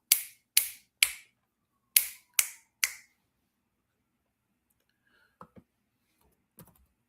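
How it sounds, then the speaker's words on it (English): Six crisp finger snaps ring out close and loud in two quick groups of three, followed by a few faint soft clicks and rustles. "I'm snapping, snapping, snapping, snapping my fingers."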